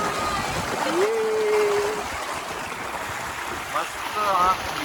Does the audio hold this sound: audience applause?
no